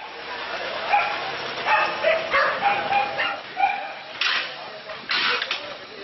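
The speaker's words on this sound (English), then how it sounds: "let's leave it to the street dog to announce the end of the show here" A street dog in Cuba barks and yips in a series of short bursts, some whimpering, fairly near over quiet street background.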